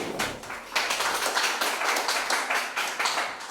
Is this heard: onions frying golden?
no